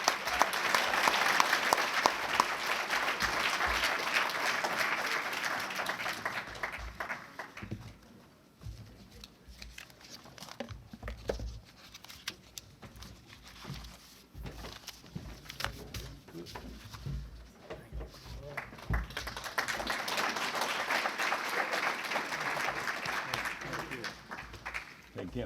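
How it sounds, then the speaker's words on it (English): Audience applause at a Cowboy Hall of Fame ceremony at the Black Cowboy Museum honouring a cowboy, loud sustained clapping that dips in the middle under voices and murmuring, then swells strongly again toward the end. "How about a name, round of applause, Jeff Cook."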